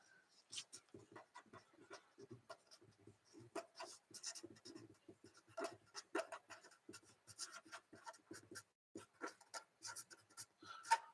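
A pen scratches across a piece of paper to update a list, giving close, quiet, irregular strokes and scribbles that run on steadily with short gaps.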